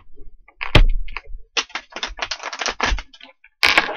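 Crisp, dry shuffling of a tarot card deck in several quick bursts separated by short pauses, close up and fairly loud, with no talking.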